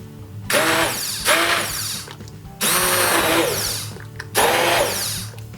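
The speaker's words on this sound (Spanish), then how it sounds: "Y ya le ponemos la batidora." A loud immersion blender whirs in three long bursts separated by short pauses, its motor pitch wavering as it purées a thick pumpkin curry soup.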